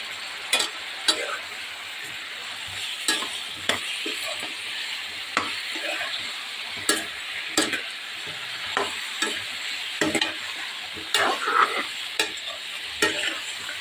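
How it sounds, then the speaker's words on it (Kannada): Eggplant, dry fish and potato being stirred with rock salt in a pan for a masala sambar, with repeated scraping strokes of a spoon over a soft steady sizzle and no voices. "ಕಲ್ಲುಪ್ಪು ಹಾಕಿ ಚೆನ್ನಾಗಿ ಮಿಕ್ಸ್ ಮಾಡಿ ಬದನೆಕಾಯಿ, ಮೀನು ಮತ್ತು ಆಲೂಗಡ್ಡೆ."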